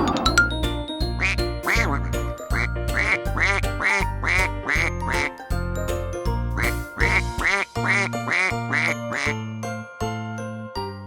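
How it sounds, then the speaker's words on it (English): A duck quacks in short repeated bursts over a bouncy children's tune with steady bass notes, the quacks loud and close, mixed in with the music. "Duck."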